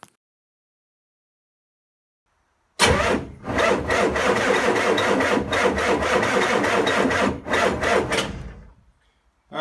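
A Ford engine with a fuel issue cranks after a long silence and catches, running loud and close with a rough, pulsing idle for several seconds before cutting off abruptly.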